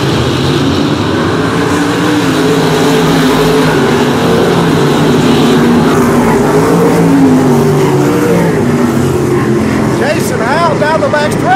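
Sprint cars race around the dirt oval at Boyd Raceway, their loud engines roaring and droning continuously as the pack passes, with a track announcer talking over the noise.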